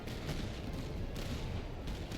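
Artillery fire in the Master of Command strategy game, with Highlanders and British troops on the field, heard as a faint, continuous distant rumble of booming guns with no single shot standing out.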